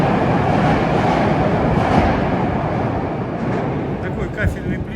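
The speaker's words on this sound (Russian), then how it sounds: "Станция метро Сокольники" A train rumbles loud and continuous at Sokolniki metro station in Moscow, a steady broadband roar that fills the tiled underground platform.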